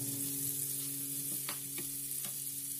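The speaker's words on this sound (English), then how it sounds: "Saute for about 3 to 5 minutes." Carrots sauté with browned garlic in a hot pan, a steady close sizzle with a faint background hum and a few soft scraping stirs.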